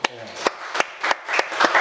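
A church congregation gives encouraging applause during a Sunday worship service, heard as a few sharp, spaced claps that gather into a light, sparse patter, with a voice speaking faintly underneath.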